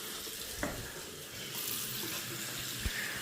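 A newly plumbed sink faucet runs in a steady, close hiss of flowing water, with a couple of small knocks from the fixture and no voices.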